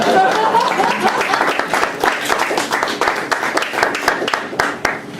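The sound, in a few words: audience clapping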